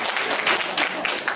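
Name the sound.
audience applause in a church youth group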